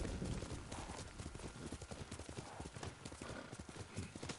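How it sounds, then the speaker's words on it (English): Horse hooves clip-clopping in the video game Ghost of Tsushima, a steady close rhythmic trot of hoof beats with a brief whinny near the start. "Horse."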